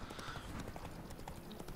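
Horse hooves clip-clop at a steady trot in The Witcher 3: Blood and Wine, a close, rhythmic run of hoofbeats with light ambient game sound beneath.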